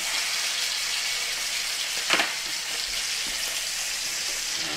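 Flank steak sizzling in a frying pan, a steady close crackle of hot fat with a brief louder spatter near the middle as the meat is basted.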